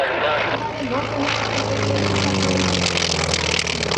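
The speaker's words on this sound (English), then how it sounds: "Curtis Wright, 970 radial engines, which, by the way, some of you may recognize that sound," A T-28 Trojan with a Curtiss-Wright radial engine drones loudly overhead at the EAA AirVenture air show, its propeller roar steady and near while an announcer talks over it.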